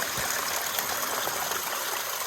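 A small waterfall on the Appalachian Trail gives off a steady, close rush of splashing water that holds even and unbroken for the whole short stretch, with no voices.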